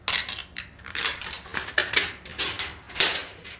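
Thin plastic protective film crinkles and crackles in a series of sharp, close bursts as it is peeled off a new Synology NAS 220+ enclosure, the rustling rising and falling in short irregular pulls.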